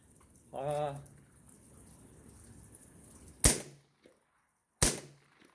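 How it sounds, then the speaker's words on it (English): Two sharp, loud gunshots from a GBD-22 with a 10-inch barrel firing Thunderbolt rounds, a second or so apart and each cracking then fading quickly, following a short burst of speech over outdoor background noise. "Now I'll shoot them next after these Thunderbolts"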